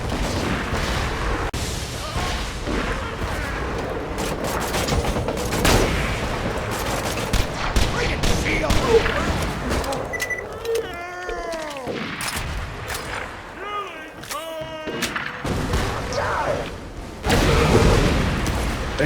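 Bandit Rocketeer in Borderlands 2 firing a rocket launcher amid bursts of gunfire, with booming blasts and rapid shots over constant battle noise.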